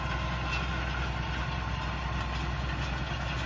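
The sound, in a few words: Claas Axion tractor engine idling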